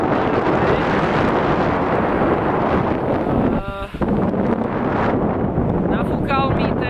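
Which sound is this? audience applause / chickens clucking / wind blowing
wind blowing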